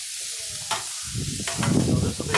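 Raw chicken laid skin side down on a grill over ceramic bricks, crackling into a loud sizzle that builds through the second half after a brief quiet start, with someone speaking briefly at the beginning.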